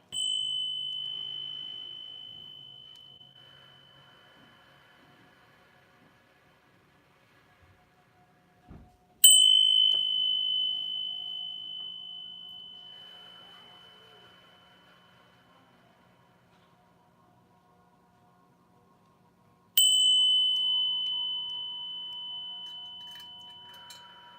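A bell is struck three times, each ring a bright clear tone that decays slowly into near silence before the next strike, spaced about ten seconds apart in a quiet room.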